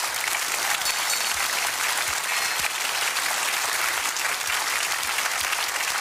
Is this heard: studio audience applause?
yes